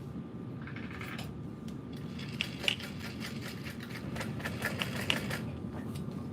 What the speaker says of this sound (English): top stitch that through the lining and the exterior